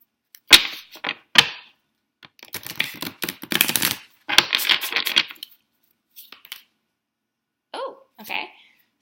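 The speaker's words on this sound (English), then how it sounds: "One more shuffle." Crisp riffling bursts of a deck of oracle cards being shuffled, a few quick snaps followed by longer papery flutters, close and clear against silence.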